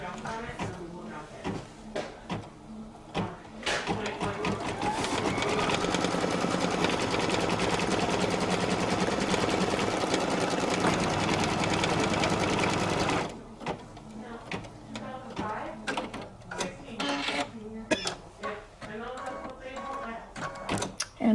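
An embroidery machine stitching a placement line on fabric, a steady close mechanical whir lasting several seconds, with a person talking and handling the fabric before and after.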